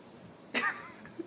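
A single short, sharp sneeze bursts out of a quiet background, followed by a brief faint sound.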